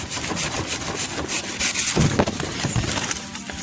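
Rough rasping strokes of a blade cutting through a banana plant stem, close by and repeated, with no talking.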